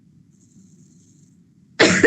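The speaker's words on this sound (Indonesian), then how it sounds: "aku kok jadi batuk" A single short, loud cough bursts out at the very end after nearly two seconds of quiet room hum.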